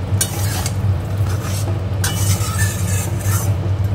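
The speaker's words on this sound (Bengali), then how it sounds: "এবার সব মশলা ভালো করে কষিয়ে নেব" Ground turmeric, chili, cumin, coriander and Kashmiri chili powders sauté in oil, a steady close sizzle with repeated spatula strokes scraping the pan and a low hum underneath.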